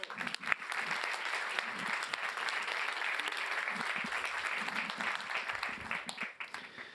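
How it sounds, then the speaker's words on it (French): Audience applause at a fintech club interview event, a steady wash of many hands clapping that holds for several seconds and tapers off at the end, fairly faint. "On peut applaudir bien fort Pierre-Antoine."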